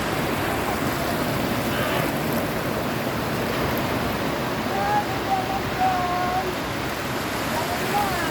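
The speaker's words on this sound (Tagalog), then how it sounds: "kahit malakas yung alon." Strong waves crash and wash on a beach with a child playing nearby; a steady broadband surf roar fills the whole stretch, with faint whistle-like tones and voices in the background.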